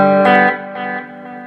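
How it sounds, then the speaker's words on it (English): A distorted electric guitar chord played through a Friedman BE100 amp and Axe FX II with reverb and delay rings out loud, followed by softer repeats of the chord trailing off in the delay. "Got a reverb which is on already. And of course the obvious delay."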